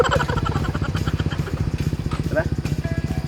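A motorcycle engine runs with a rapid, pulsing beat on a year-end group ride, close and fairly loud, while people talk over it.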